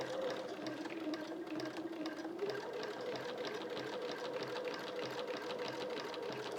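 Sewing machine stitching a quilt, a quiet rapid steady chatter of the needle running continuously, fairly close with a faint motor hum underneath and no speech.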